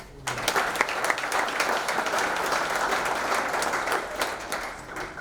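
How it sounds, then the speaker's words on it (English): A Hall of Fame induction ceremony crowd applauds the inductees and their families, sustained full clapping that starts abruptly and stays loud and dense before easing slightly at the end. "I want to give a round of applause for everyone"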